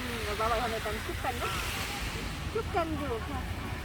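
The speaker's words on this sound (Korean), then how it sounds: "바람 살랑살랑 불고 파도 소리도 좋고" Gentle sea waves and a light breeze on a beach make a continuous soft wash, with voices talking over them throughout.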